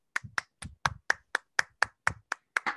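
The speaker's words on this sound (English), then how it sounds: "I'm going to give Michael another clap" Applause for a speaker at an online Linux meetup: about eleven distinct, evenly spaced claps from a single person, close and crisp, with no talk.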